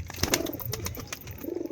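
Pigeons being fed coo softly in short, throaty bursts close by, with light pecking and scuffling sounds between calls.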